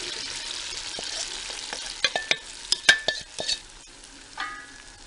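Onion appam batter, a traditional grandmother's recipe, sizzles faintly in a thick pan, with a soft steady hiss and a cluster of sharp little pops and clicks midway.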